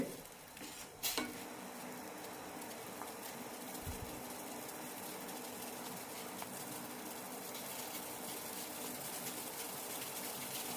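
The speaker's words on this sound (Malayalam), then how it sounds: "രണ്ട് മിനിറ്റ് നന്നായി തിളപ്പിച്ചെടുത്താൽ മതി" Beetroot and spice water for a vinegar onion pickle boiling in a pot, a steady bubbling simmer throughout with a brief clatter near the start, no talking.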